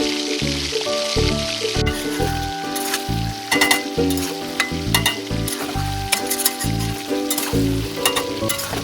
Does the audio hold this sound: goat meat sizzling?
yes